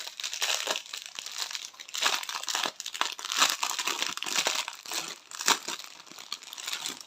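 Plastic sachets of rhinestones from a diamond painting kit are handled, giving continuous close crinkling and crumpling with short sharper rustles throughout.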